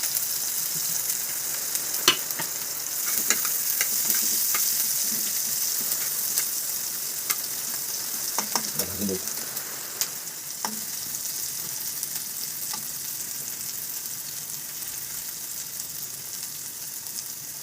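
Onion frying in oil in a pan for a wild karatoli vegetable dish, a steady broadband sizzle throughout with occasional crackles and a few clinks of stirring, no talking.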